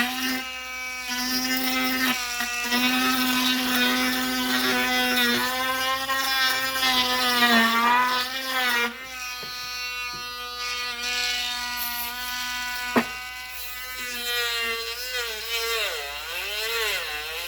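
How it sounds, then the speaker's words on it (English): A small Dremel rotary tool fitted with a sanding wheel whines steadily with a high pitch that rises and dips as it bears on the metal of Celica sport pedals, running close and continuous for several seconds with brief pauses. "The little Dremel with the little sanding wheel"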